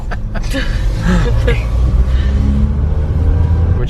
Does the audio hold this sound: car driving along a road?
yes